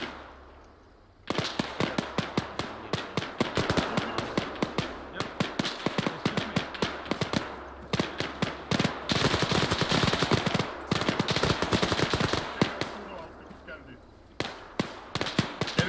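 Rapid bursts of automatic gunfire in a military video game firefight during a USMC convoy through Takistan, dense crackling volleys repeating loudly for many seconds with brief pauses.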